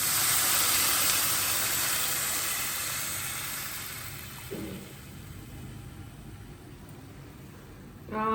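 Tamarind juice hitting a hot tempering pan for betel leaf rasam sets off a loud, broad sizzling hiss that gradually dies down, with a couple of brief clinks near the end.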